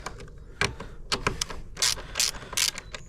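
A ratchet wrench clicks rapidly in short bursts while loosening bolts on a Sur-Ron Light Bee electric motorbike, close and crisp with brief pauses between runs.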